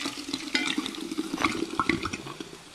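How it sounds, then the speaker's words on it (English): Sparkling water pouring into a container, a splashing, gurgling stream close by with fizzy bubbling, lasting a few seconds. "I'm going to go ahead and add our sparkling water"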